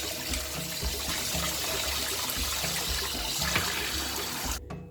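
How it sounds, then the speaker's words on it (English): Tap water runs steadily into a sieve of rice being washed to remove starch, a continuous close splashing trickle that holds for the whole stretch before cutting off abruptly at the end. "So just running some tap water."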